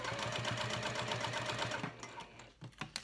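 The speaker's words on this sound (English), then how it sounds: "and then you just sew all the way down the right side" A sewing machine stitches down the right side of a fabric strap for a wristlet clutch, a rapid close mechanical chatter that cuts off partway, followed by a few light clicks.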